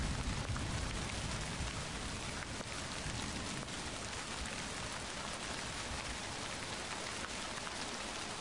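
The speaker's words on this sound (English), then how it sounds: "Oh, it's starting to rain." Steady video game rain falls heavily and evenly, a dense patter on surfaces throughout with no voices.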